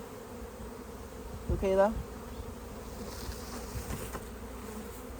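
Honeybees buzz continuously in a low, steady drone close by at a hive being split, with a brief louder burst from one passing bee and a short spoken remark.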